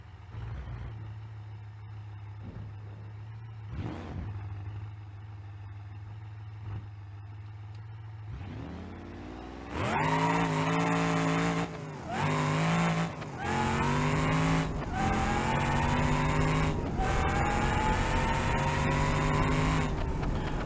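In the BeamNG.drive game, a car engine idles with a low hum, then launches into a loud rising rev with rapid gear shifts climbing in pitch, a brief tire squeal along the way.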